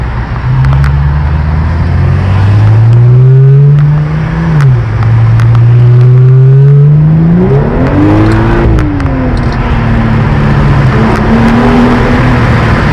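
A 2015 BMW 535i with a muffler-deleted exhaust drones loud and close, its engine note rising and falling through several revs and easing back to a steady idle, with no voices over it.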